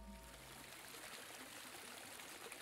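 Small stream flowing near a little hut, a steady broadband rush of running water that stays constant and fairly loud throughout, with no voices.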